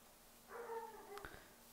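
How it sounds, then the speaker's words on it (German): A dog barks outdoors in a short burst of yelping, whining barks, somewhat distant and moderately faint, with a steady low hum underneath. "Oh, da bellt mein Hund."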